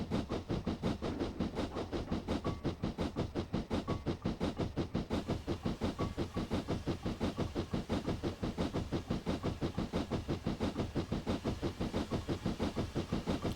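A steam locomotive in Train Simulator chuffs along in a rapid, perfectly even rhythm of exhaust beats, steady and close throughout, with no talking.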